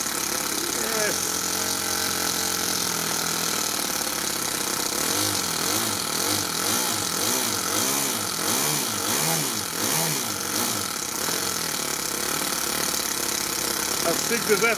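A Toyan FS-S100G miniature four-stroke RC engine, stock and freshly started with a starter motor, runs steadily and loud up close, its rapid buzzing exhaust note wavering in pitch throughout.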